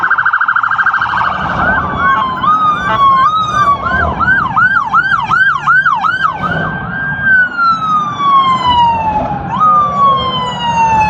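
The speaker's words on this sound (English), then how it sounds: "We got a little police convoy coming up" Several police vehicles in a convoy pass with overlapping wailing and yelping sirens, loud and close throughout, the pitch sweeping rapidly then gliding down as they go by.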